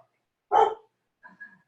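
A dog barks once, loud and close, during a quiet yoga class, followed by a couple of softer, fainter yips or whines.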